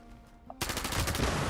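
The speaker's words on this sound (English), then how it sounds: "Let me stop getting shot at first." Rapid gunfire in Fallout 76 erupts after a brief quiet moment, a loud, close burst of automatic shots cracking in quick succession until the clip ends.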